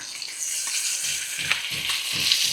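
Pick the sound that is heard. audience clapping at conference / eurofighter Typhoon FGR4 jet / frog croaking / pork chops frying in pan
pork chops frying in pan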